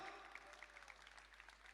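Steady applause from an audience at a Shell motorcycle oil promotional event, a brief continuous patter of clapping heard at a distance, with no voices standing out.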